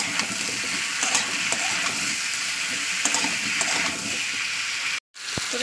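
Potatoes fry with browned onions in a pan, giving a steady sizzle with intermittent scrapes and clinks of stirring, then a brief cut to silence near the end.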